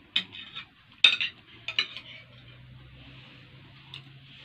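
A metal spoon from a set of Egyptian "sunbula" spoons clinks against metal or dishware in a few sharp, bright taps, with one louder clink among softer ones and a low steady hum beneath.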